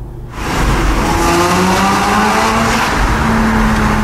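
A Porsche 987 Cayman S Mk2 with a valved sport exhaust revs up close, a loud, sustained engine roar with rising harmonic tones that holds steady for several seconds.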